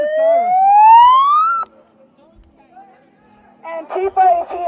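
A police siren rises in a loud, steady upward wail, cuts off, then gives way to short bursts of sound amid a street protest.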